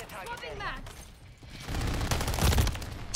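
A submachine gun fires in rapid bursts during a Call of Duty: Modern Warfare III match, loud close-up gunfire clattering over game noise after a brief stretch of talk.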